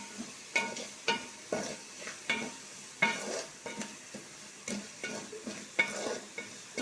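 A spoon stirs tomato curry in a pan with a soft, steady sizzle underneath, making about a dozen rhythmic scraping strokes at close range with no voices.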